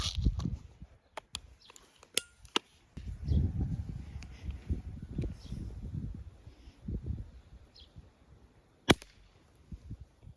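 Sharp, isolated Beeman P17 air pistol shots at 10 meters crack out at uneven intervals, with quieter handling noise and low rumble between them.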